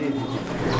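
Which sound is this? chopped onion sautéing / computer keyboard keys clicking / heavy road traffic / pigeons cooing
pigeons cooing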